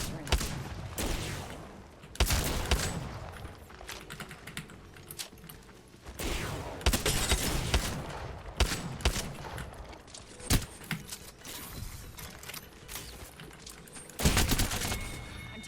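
Rapid bursts of gunfire with sharp cracks and impacts in the battle royale video game Apex Legends, layered over busy game sound and keyboard clatter, dense and continuous with louder volleys.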